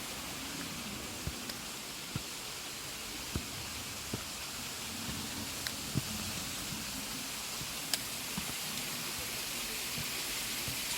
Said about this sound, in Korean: 잠깐 문원폭포에서 또 역시 물소리 잠깐 듣고